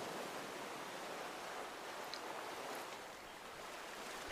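Soft, steady wash of distant ocean waves, a faint continuous hiss with no voices.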